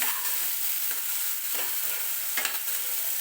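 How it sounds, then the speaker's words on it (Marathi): Tomatoes frying in oil in a pan while cooking a cabbage dish, a steady close sizzle with a few brief stirring scrapes, no talking. "टोमॅटो एक दोन तीन मिनटं व्यवस्थित आपल्याला तेलामध्ये फ्राय करून घ्यायचं आहे"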